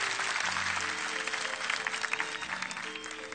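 A talent-show audience at X Factor applauds after a singer's Ave Maria performance: a dense, continuous wash of clapping from a large crowd, with sustained musical tones running underneath.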